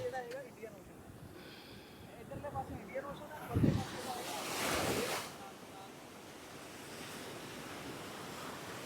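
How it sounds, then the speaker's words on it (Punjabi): Strong sea waves break on the shore at Dhanushkodi, with two loud surges rushing in midway over constant wind buffeting the microphone and a low background roar. "ਕਿੰਨੀ ਤੇਜ਼ ਛੱਲਾਂ ਆਉਂਦੀਆਂ ਨੇ"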